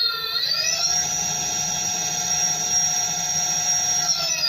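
A 12-inch 3000-watt Yuma BLDC hub motor runs under a Votol EM100 controller on a 48-volt battery, producing a loud, steady electric whine that quickly rises in pitch, holds at speed, then begins winding down.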